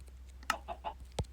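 Minecraft chickens make a few short, soft clucks in quick succession, close and clear over a low background hum.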